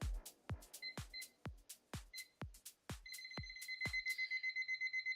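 A timer is set with a rapid series of crisp button clicks and short electronic beeps, the presses coming faster and more regularly toward the end, close and clear in a quiet room.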